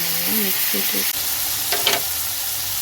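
Tomatoes fry in hot oil in a pan with a steady, hissing sizzle, brief tonal bleeps early on and a couple of soft scraping stirs near the end.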